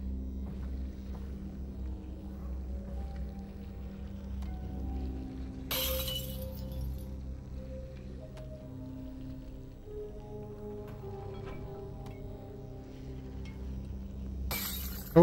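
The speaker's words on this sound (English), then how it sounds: "I think I've had my fill of smashing bottles." Glass bottles shatter twice inside the virtual reality game Half-Life: Alyx, with each loud crash standing alone against a quiet low hum.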